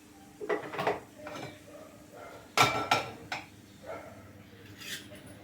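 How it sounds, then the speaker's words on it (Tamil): A metal kadai (wok) is set down on a kitchen stove while chutney is being prepared, with a few scattered clanks and one sharper metallic knock partway through, quiet and close. "வடசட்டி வச்சுக்கணும்."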